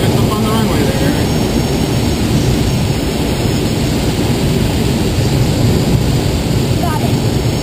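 Loud, steady engine drone from an aircraft lining up on a runway, a constant broadband roar that fills the whole clip with faint cockpit voices underneath.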